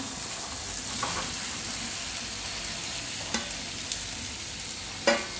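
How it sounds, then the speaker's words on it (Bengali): Boiled, salted potatoes for dum aloo frying in spiced oil, giving a steady close sizzle under occasional scraping stirs and a few spoon knocks against the pan, with no talking. "সিদ্ধ করা আলুটা দিয়ে দিচ্ছি"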